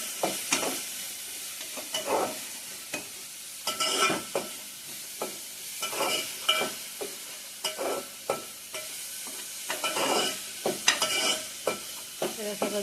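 Capsicum curry with coriander-cumin powder is stirred in a sizzling pan: repeated spoon scrapes come in an uneven rhythm over a soft frying hiss, close up, with no talking.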